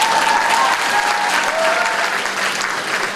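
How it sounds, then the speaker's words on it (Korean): An audience applauds at a political talk concert: dense, sustained clapping from a large crowd fills the room, fairly loud and steady for several seconds. "박수."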